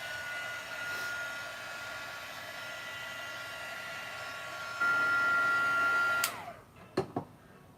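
Hair dryer blowing on purple gouache paint: a steady, close whirring hum with a high whine that runs for several seconds, steps up louder briefly, then cuts off, followed by a couple of small clicks and knocks.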